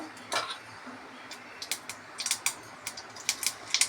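Mustard seeds popping and crackling in a hot pan during tempering, a scatter of small sharp ticks that grows denser, close and quiet, no talk.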